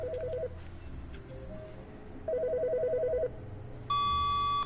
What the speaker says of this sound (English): Whose phone's ringing?